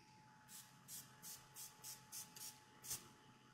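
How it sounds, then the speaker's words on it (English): A spray bottle mists in quick repeated pumps, about eight short hissing spritzes in a steady rhythm, close and clear over a faint hum. "And then give it some spray again."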